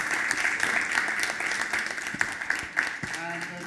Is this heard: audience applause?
yes